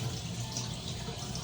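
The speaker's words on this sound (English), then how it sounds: "Hot water on the knife." Hot tap water streams steadily over a knife used to cut crumbly toffee shortbread, a continuous close rushing hiss with no pauses.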